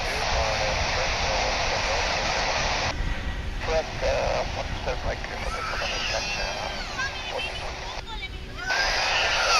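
An American Eagle CRJ-700 regional jet arriving at DFW International Airport, a steady loud engine roar filling the scene throughout with a brief dip midway, while people talk nearby.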